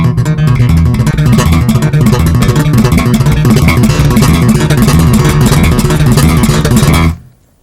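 A bass guitar plays a major seventh chord with a thumb-and-finger funk technique: a dense, loud, rapid stream of slapped and plucked notes in tight rhythm, ending abruptly.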